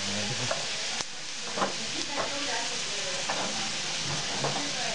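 Bacon frying in a pan, a steady close sizzle with occasional stirring and scraping clicks, while a person talks over it.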